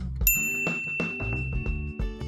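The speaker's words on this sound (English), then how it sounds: "ring the bell to be notified about our latest videos" Bright notification bell ding from a subscribe prompt, a single sharp strike near the start with a lingering ring that fades while a music bed carries on under it.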